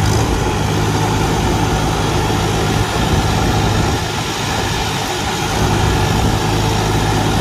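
A 1949 Farmall Super A tractor engine runs steadily at close range, a continuous low mechanical drone with a dense, even texture and no talking.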